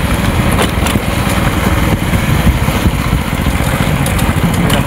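A motorcycle engine idles steadily and loudly at close range, with a continuous rough mechanical drone and no talking.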